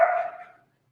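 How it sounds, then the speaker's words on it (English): A dog named Gracie gives a single sharp bark that fades quickly into silence. She is working on reactivity. "Gracie, very barking today"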